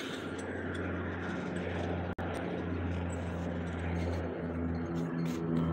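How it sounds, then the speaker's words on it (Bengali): An airplane passes overhead above a residential neighbourhood, heard as a steady broadband drone with a low hum. It holds fairly evenly through the clip, apart from one brief dropout, and no one speaks. "ওই দেখো, ওই দিক থেকে একটা প্লেন যাচ্ছে।"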